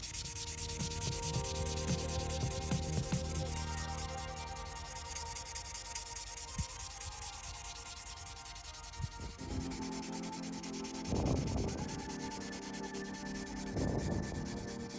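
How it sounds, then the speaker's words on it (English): Steady dry rubbing of a 3000 grit sanding sponge on a hard plastic model car body, continuous strokes, close up, with a few louder scrapes near the end. "took out some 3000 grit sanding sponges from Tamiya to sand it as smooth as I can."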